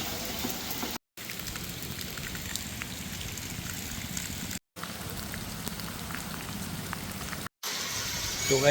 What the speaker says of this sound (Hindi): So guys, after a very long time we do have this kind of rain.